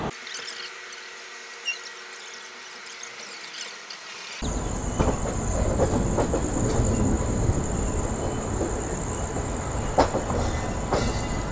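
A passenger train on the line toward Puri starts with a low, quiet hum. Then a loud rumbling rush of wheels and carriages takes over, with a high steady squeal and occasional clanks continuing to the end.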